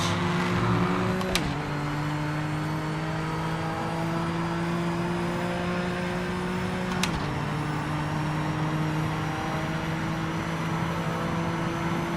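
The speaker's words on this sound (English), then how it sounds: "I love the little splutter sound effect, like the car just shits itself." A video game car engine drones steadily, then sputters twice with abrupt stumbles that cut its pitch, about six seconds apart.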